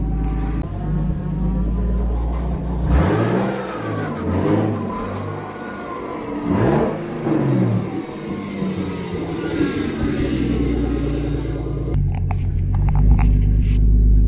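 A turbocharged BMW E36 engine runs warming up, a loud close rumble whose pitch wavers and rises with small revs, ending in a deeper rougher burst.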